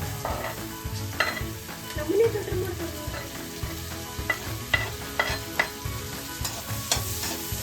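Onions sizzle steadily in a hot pan during home cooking of high-protein pasta, while a spoon stirs and scrapes them in repeated soft strokes close by.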